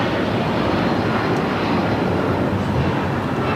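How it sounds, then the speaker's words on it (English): United Airlines Boeing 757-200 taking off from LAX for Newark, a loud, dense, steady engine roar filling the whole stretch with no voices over it. "United Airlines 2127 taking off to Newark on the 757-200"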